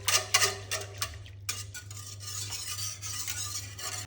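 A spoon stirs and mixes a ground rice paste batter for patisapta pithe in a metal pot, a close run of scraping and clinking strokes over a low steady hum.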